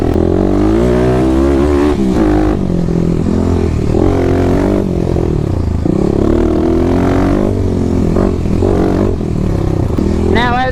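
A 2021 Kawasaki KLX300 dirt bike with a Barker exhaust rides hard and close, its engine roaring and revving up and down continuously over rough ground, with a rider's voice faintly mixed in.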